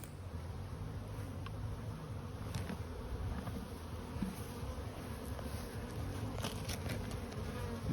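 Honeybees buzz around an open hive during a frame-by-frame inspection, a dense continuous drone close by, with no talking.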